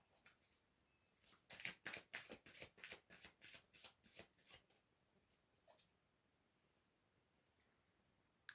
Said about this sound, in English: I'm just going to pull a few goddess cards.